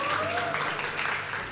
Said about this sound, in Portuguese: palmas aí pra Brenda, né, gente?